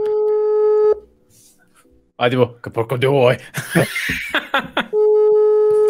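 A video call rings with a steady electronic tone that stops after about a second. People then talk and laugh, and the ringing tone returns near the end.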